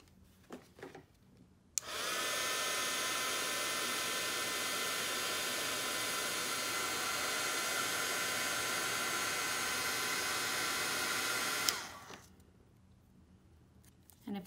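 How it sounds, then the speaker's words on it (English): A heat tool blows steadily to heat-set embossing on a handmade heart card, a loud continuous whooshing roar switched on near the start and cut off before the end, with quiet room sounds on either side. "Now we're going to heat set."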